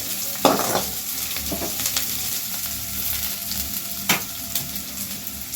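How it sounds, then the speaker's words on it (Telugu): Green chilli pieces fry in hot oil while being stirred, a close, steady sizzle punctuated by a few sharp spatula scrapes and stirring clatters. "ఇది కొద్దిగా బాగా ఎర్రగా వేగాలి"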